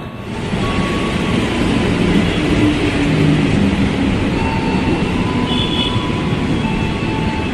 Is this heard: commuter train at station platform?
yes